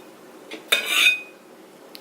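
Cutlery cutting two boiled eggs on a plate for a keto meal: a brief cluster of scraping, clinking contact about a second long, with a faint tap before it and small ticks near the end.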